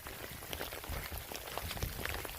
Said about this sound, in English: Sounds like hail, isn't it? It's just rain